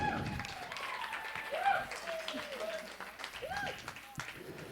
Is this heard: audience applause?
yes